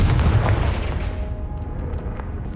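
A Confringo blasting spell explodes in the Hogwarts Legacy video game: one deep, loud boom at the start that rumbles and fades away over a couple of seconds, with no talk.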